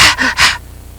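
A preacher imitates panting, producing three loud, close, breathy gasps in quick succession before falling silent.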